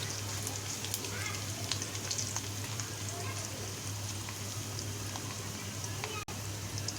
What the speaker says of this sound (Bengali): এখন আমি দিয়ে দিচ্ছি পেঁয়াজ কুচি, তারপর দিয়ে দিচ্ছি রসুন কুচি। একটু নেড়ে দিচ্ছি।